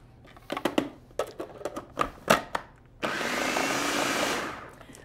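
A blender pulses artichoke dip in a kitchen, a loud whirring burst lasting about two seconds after a series of knocks and clatter from handling.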